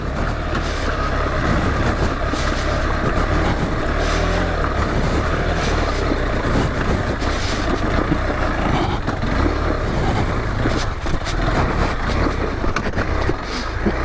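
A KTM 390 Adventure motorcycle on a UK trail, its wheel spinning for traction, makes a continuous rough engine drone mixed with uneven rattling and knocking from the bike and ground, with no speech.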